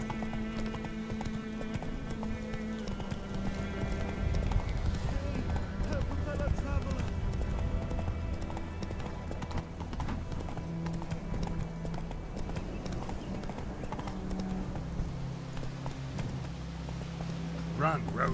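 Hoofbeats of Roach, a horse in The Witcher video game, galloping in a rapid, continuous clip-clop, loud and close, with a whinny and game music and voices over it.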